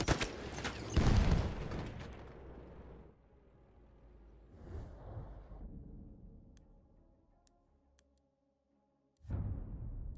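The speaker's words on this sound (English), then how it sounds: "Grenade out" A grenade explosion in Battlefield, a loud close blast at the start that decays into a rumble, then a quieter distant boom midway and another sharp burst near the end, with no talk.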